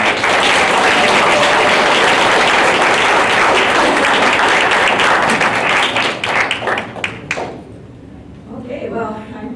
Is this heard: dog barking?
no